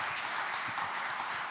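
An audience at an automotive forum applauds a speaker being introduced, producing a continuous wash of clapping at moderate level, steady for the whole moment.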